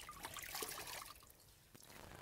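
Water trickles and splashes as a JEMAKO Profituch cleaning cloth is wetted during window cleaning, a steady close pour lasting a couple of seconds with a brief louder splash near the end.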